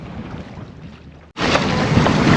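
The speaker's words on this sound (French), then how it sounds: "d'un seul coup le vent a monté là" Wind on a sailboat off Corfu suddenly picks up, quiet water and breeze jumping after a brief gap into a loud, steady roar of wind buffeting the microphone.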